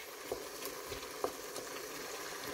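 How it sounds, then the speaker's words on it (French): Chicken wings simmer in a pot with a soft, steady bubbling and faint sizzle, with occasional small pops rising above the low continuous hiss. "On laisse mijoter au moins 5 minutes."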